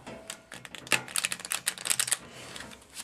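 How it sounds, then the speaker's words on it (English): Quick flurry of crisp, rapid clicking and riffling, like cards being shuffled up close, in short bursts with no voices. "Okay, and we'll give it a shuffle."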